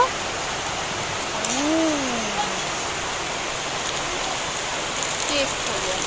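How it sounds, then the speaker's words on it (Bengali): Rain falling outdoors makes a steady, even hiss across the whole stretch, with a brief rising-falling tone partway through. "আর বাইরে এখানে বৃষ্টি হচ্ছে, সেই বৃষ্টি।"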